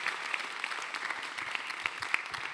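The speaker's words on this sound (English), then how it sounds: "I want a big round of applause for all of our fantastic speakers" A conference audience at a UNWTO global wine tourism event applauds its speakers with steady, dense clapping that fills the hall at an even level throughout.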